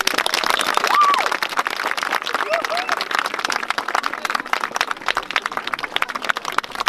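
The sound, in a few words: crowd applause at rally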